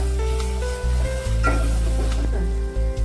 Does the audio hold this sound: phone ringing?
no